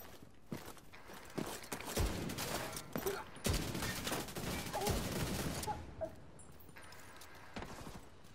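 Rapid gunfire bursts and sharp impacts in The Division 2 co-op shooter game, a busy sequence of shots and clatter at moderate level.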